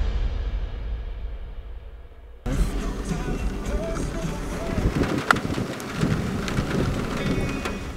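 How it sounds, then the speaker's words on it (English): Heavy rain pours in big woods during a morning moose hunt, a dense steady roar of drops after a quieter opening, with faint rumbles and some voices underneath. "been pouring rain all morning"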